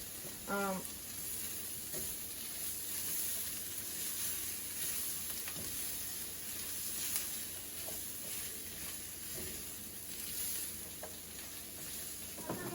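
Pork ribs and onions braising in a pot, a quiet steady sizzle and bubble throughout with occasional faint stirring clicks, no voices.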